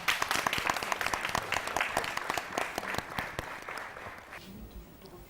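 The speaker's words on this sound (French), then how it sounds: "Sous vos applaudissements, s'il vous plaît." Audience applause at an anniversary broadcast of a health talk show, dense and steady at first and then thinning out toward the end, with a voice speaking over it.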